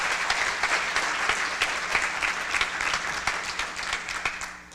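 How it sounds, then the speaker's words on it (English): Applause from an audience at an event hosted at a Marina Inn in Myrtle Beach, a steady dense clapping that fills the whole stretch at moderate level with no talk over it. "so please give them a round of applause"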